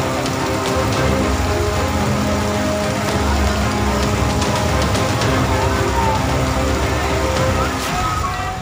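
Heavy monsoon rain pours steadily over flooded city streets in Jodhpur, a dense, loud hiss of raindrops on hard surfaces that stays constant throughout, with faint traffic sounds mixed in and no talk.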